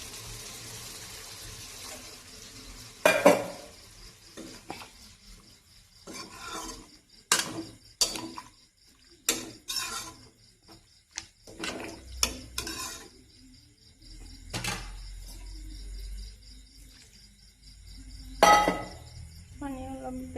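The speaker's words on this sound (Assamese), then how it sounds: "এইখিনি উতলি একদম পূৰা ড্ৰাই হোৱালৈকে ভাজিম" Chicken intestines stirred in a pan as added water boils off, giving a low bubbling simmer broken by repeated loud clanks and scrapes of a utensil against the pan.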